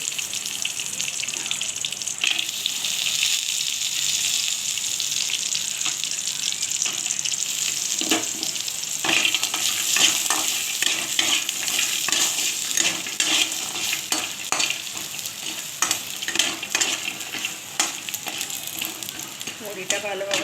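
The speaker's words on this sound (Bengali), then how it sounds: "বড়িটা আমি ভেজে নেব" Lentil dumplings (bori) frying in hot oil in a pan, a steady broad sizzle running the whole time with scattered scraping and stirring clicks on top, close and fairly loud, no voices.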